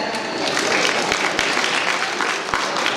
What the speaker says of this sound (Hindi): सभी लोग तालियां बजाएं।